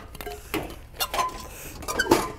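Metal camping cookware from a chuck box (frying pan, lids, cups, water boiler) clinks and clatters intermittently as it is handled, with several sharp knocks close by.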